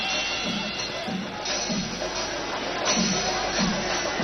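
A huge festival crowd roars at Thrissur Pooram in Kerala during the Kudamattam, a dense continuous wash of cheering and babble with a narrator's voice speaking over it.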